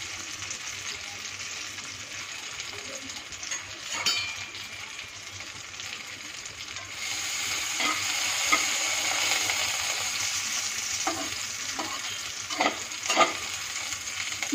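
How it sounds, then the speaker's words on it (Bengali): Cashews, raisins and almonds frying in ghee over medium heat give a steady, close sizzle, with stirring scrapes and a few clinks of the utensil against the pan. "এবং এর মধ্যে কিছু ড্রাই ফ্রুটস ভেজে তুলে নেব। আমি এখানে কাজু, কিশমিশ আর আমন্ড নিয়েছি।"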